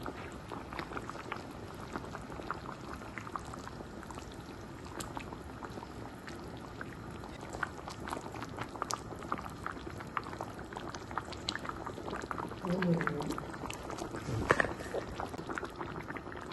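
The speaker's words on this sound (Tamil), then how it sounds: "இப்போ கொஞ்சம் சிம்முக்கு போட்டுக்கலாம் அது கொதிச்சிடும் மீன் குழம்பு ரெடி" Fish curry simmers and boils in a pot, a steady close bubbling and popping that runs on its own without pause, slightly busier near the end.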